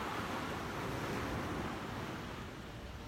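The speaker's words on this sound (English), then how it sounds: "We've got some nice loud waves again today." Big loud ocean waves on a beach in the morning, a steady broadband roar of surf close and continuous, no talk.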